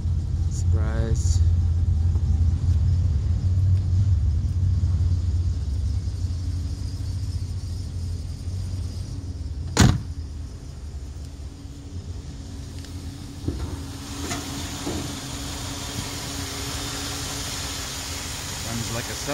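A 1960 Buick Invicta convertible engine idling smoothly and steadily, a low even rumble that stays constant throughout, with a single sharp click near the middle and faint background noise.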